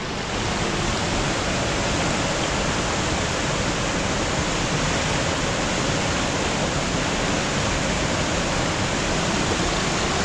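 Steady, dense rushing water fills the whole stretch, loud and continuous like a fast-flowing stream, with no voices.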